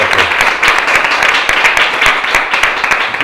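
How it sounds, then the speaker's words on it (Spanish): Audience applause at a hospital book presentation, a few seconds of steady dense clapping with individual claps standing out, fairly loud and close, a voice faintly present. "Yo quisiera pedir un aplauso"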